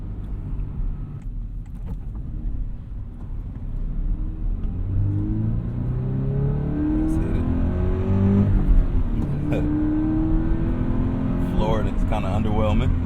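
A Toyota 86 accelerates at full throttle. Its engine drone climbs steadily in pitch through the rev range and stays continuous and moderately loud from inside the car, with a voice occasionally in the background.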